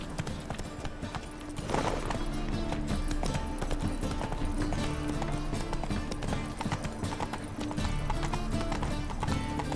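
A horse gallops in The Witcher 3 game with fast, dense hoof thuds in a rolling rhythm, loud and close throughout above a droning background score.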